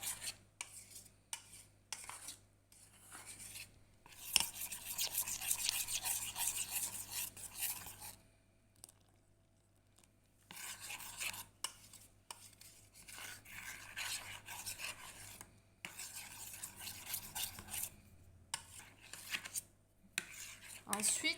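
Cake batter for a rolled sponge log being stirred and mixed in a bowl, with soft scraping and clinking utensil strokes in irregular bursts, quiet and close, with pauses between.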